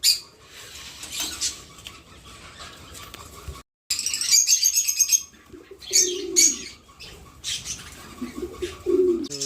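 Pigeons, parrots and lovebirds in an aviary give sharp chirps, squawks and soft coos in scattered bursts, with a brief flutter of wings, close and fairly loud with no talking.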